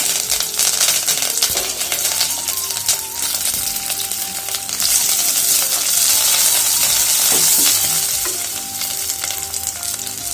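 Chopped onion and curry leaves sizzle loudly in hot oil with popped mustard seeds and fennel while tempering for a traditional mor kuzhambu; the crackling frying runs steadily throughout with scattered sharp pops.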